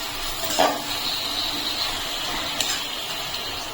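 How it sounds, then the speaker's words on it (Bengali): Chopped tomato, salt and spices sautéing in a pan give off a steady, soft sizzling hiss with light watery bubbling, close by and with no voices. "এখন মশলাটা আর একটু কষিয়ে নেব।"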